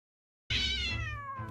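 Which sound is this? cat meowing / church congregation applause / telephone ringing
cat meowing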